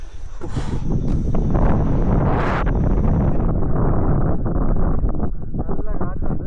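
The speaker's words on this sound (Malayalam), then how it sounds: "നല്ല കാറ്റുണ്ട്." Strong monsoon wind on Harihar Fort in Maharashtra, buffeting the microphone as a loud, low, continuous roar, with people talking over it.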